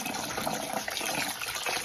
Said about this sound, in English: I'm just gonna fill it with water. I'm using filtered water here.